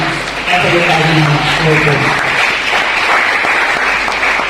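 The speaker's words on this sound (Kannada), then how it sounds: "ಎಲ್ಲರೂ ನಿಜವಾಗಿಯೂ ಒಂದು ತುಂಬ ಹೃದಯದ ಚಪ್ಪಾಳೆಯನ್ನು" An audience at a medical association awareness event on organ and body donation breaks into loud, sustained applause that fills the room, starting quickly and holding steady throughout.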